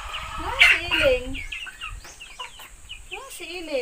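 Farm chickens clucking and calling nearby in a backyard, a series of short, uneven clucks and squawks, with a louder burst early on and scattered calls throughout.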